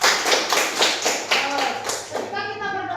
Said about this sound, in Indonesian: Oke, tepuk tangannya kepada Indra.